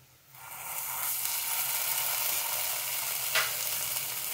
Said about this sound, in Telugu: బాగా దోరగా ఎగిన తర్వాత ఇప్పుడు దీంట్లో మనం ఒక చెంచాడు అల్లం పేస్ట్ వేసుకోవాలి